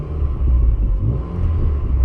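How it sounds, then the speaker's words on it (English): A hot hatchback's engine rumbles steadily at close range on a country lane, a deep continuous exhaust drone with slight revving swells and no voices. "Genuinely sounds like it's got a Miltech exhaust."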